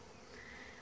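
Honey bees buzz steadily around a hive entrance fitted with a robbing screen, a soft, continuous drone of many wings heard up close with no voices.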